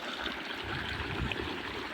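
Dam water flows into a sesame field, a steady close-up rush and trickle that holds evenly throughout with no voices.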